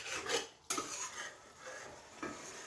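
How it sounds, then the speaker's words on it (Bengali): Chickpea greens with potatoes and bori being stirred in a cooking pan, giving soft scraping and rasping of a utensil against the pan with a sharper clack near the start and another light knock toward the end, no talking. "এখন খালি একটু নাড়াচাড়া করে"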